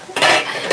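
A new wok handled on a stove, giving a loud, close metallic scrape and clatter of cookware that lasts under a second, with no talking.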